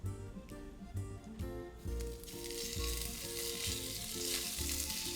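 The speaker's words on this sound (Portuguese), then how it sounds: "Eu vou fritar as tirinhas de carne por partes para não juntar água" Beef strips for picadinho fry in a hot pan, a loud, close, continuous sizzle that builds and hisses steadily, with a few soft thumps as pieces are added and moved.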